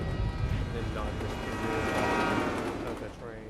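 A train in the video game Final Fantasy XV, a loud continuous rumble with rail clatter and sustained horn-like tones, running throughout with talk over it.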